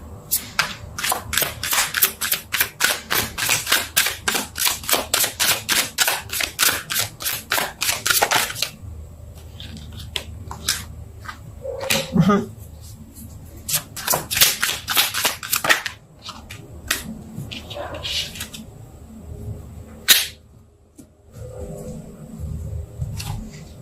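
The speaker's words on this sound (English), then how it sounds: "I'm going to pull some more cards and see what else the story has to say" A tarot deck is shuffled in quick, rapid riffles of sharp crisp snaps for several seconds. Slower card handling and pulling follow, then a second burst of riffle shuffling, all close and without talk.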